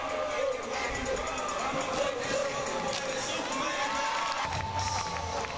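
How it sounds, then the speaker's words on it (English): Cheerleaders lead a cheer in the Alamo Dome during a girls' basketball game, with a large crowd shouting and cheering steadily throughout, loud and echoing in the big arena. "the cheerleaders will lead a cheer in the Alamo Dome"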